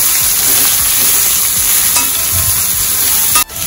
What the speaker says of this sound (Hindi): और अब मैं इसमें ये कंकेड़े डाल रही हूँ। और अब इनको हमें चलाते जाना है।